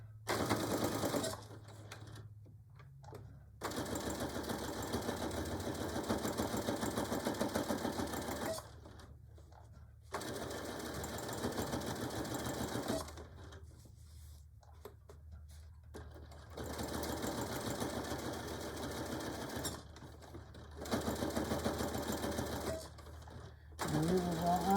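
A sewing machine stitches a beach or diaper bag, including a back stitch around the handle, running in several bursts of rapid, even mechanical whirring separated by short pauses, up close.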